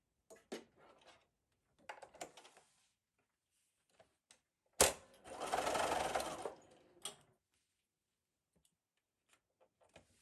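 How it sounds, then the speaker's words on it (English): Sewing machine stitching and back-stitching a seam on a cross stitch portfolio bag, short bursts of mechanical whirring with clicks between, ending in one longer run of stitching, quiet and close. "I'm going to end my stitching just a little bit above the top of the pocket."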